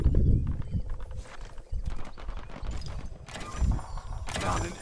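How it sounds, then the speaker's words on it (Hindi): A horse's hooves clip-clop in the Realm Royale battle game, a steady run of thudding beats heard under someone talking throughout. "जेड दबाने से गाइज ये इसमें कन्वर्ट होता है घोड़े में, मतलब इसको घोड़ा मिल जाता है।"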